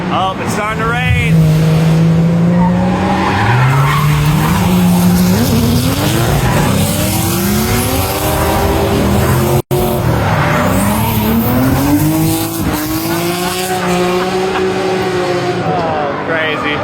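Drift cars screech through corners at a Drift Appalachia event, long rising and falling tire squeals with roaring engines passing close, repeated over and over, while spectators talk and react.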